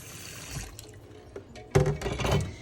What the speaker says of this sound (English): and put cold water in the pot.